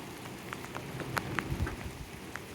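Steady rain falls outdoors around an opened beehive, with patters of raindrops hitting surfaces at close range as a continuous soft wash with scattered sharper drips.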